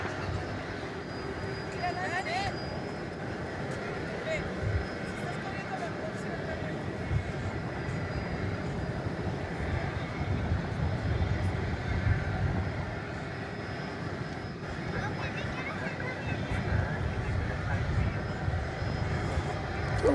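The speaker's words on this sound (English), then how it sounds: "bring you the at least the lift off of this plane from the east side" An MD-11 airliner lifts off at DFW airport, its engine rumble rolling steadily beneath ongoing talk over the whole stretch, with low-end roar building slightly toward the end.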